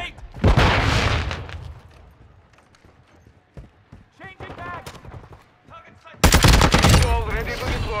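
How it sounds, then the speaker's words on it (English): A flash grenade goes off in the video game Call of Duty: Modern Warfare II, with a loud sharp blast and then a second intense burst amid scattered gunfire, radio chatter and brief talk in between. "Throwing flash grenade."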